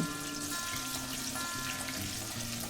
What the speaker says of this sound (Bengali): তেল গরম হতেই প্রথমে দিয়ে দেব 1 চা চামচের মতন গোটা জিরে আর একটা তেজপাতা, আর কেটে রাখা পেঁয়াজটাও দিয়ে দেব। দিয়ে একটু ভেজে নেব।